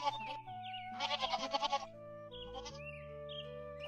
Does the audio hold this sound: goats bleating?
yes